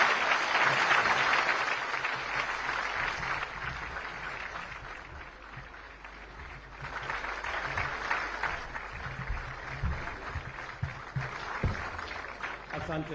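An audience rises and claps to welcome President William Ruto at a UDA prayer breakfast in Nairobi, a steady crowd applause that swells again partway through, with some voices mixed in.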